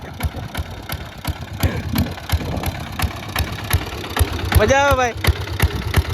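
A farm tractor idles with a steady low chugging rumble close by while grass is sown, and someone speaks briefly over the engine noise.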